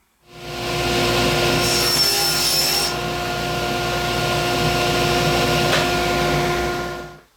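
A power saw cuts hardwood pieces to length for a roll top desk, a steady, loud whine running nearly the whole time with a brief higher squeal in the middle and no talking.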